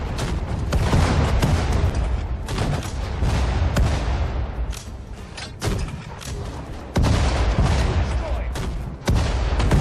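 Anti-tank grenade blasts and gunfire in Sudden Strike 4, set at the battle of Tobruk, come as loud repeated booms and rattling shots in bursts, with chaotic battle noise between and a voice talking over parts of it.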